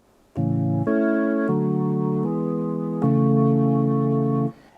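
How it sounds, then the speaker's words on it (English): Sustained reggae organ chords, a preset called Morning Sun on an MPC Live 2, played one after another, each held steadily with clean, buzzy tone, five or six changes before stopping abruptly. "And the organ sound sounds like this."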